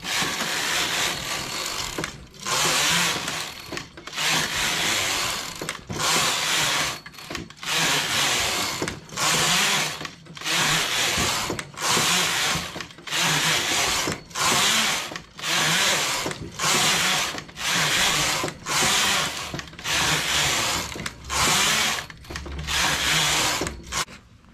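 A domestic knitting machine knitting rows for an earflap hat, its carriage making a harsh rasping, clattering sweep with each pass, repeated in steady regular strokes about every second and a half, close and loud with no talk.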